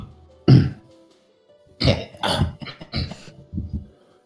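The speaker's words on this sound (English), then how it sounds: "Cough, cough, hack, hack." A few rough coughs and throat-clearing hacks, close and loud, in short bursts separated by brief pauses.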